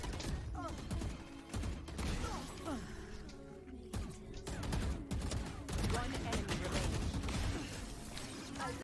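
Rapid gunfire bursts from Valorant, fired while counter-strafing, crack out in short repeated volleys over constant game sound and footsteps, loud and close throughout.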